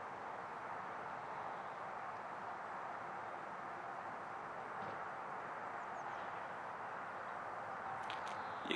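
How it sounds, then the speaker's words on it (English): Steady distant motorway traffic near a motorhome service point in Aschbach, Bavaria, Germany, forming a constant faint broadband rumble and hiss with no talking. "You can hear the motorway in the background."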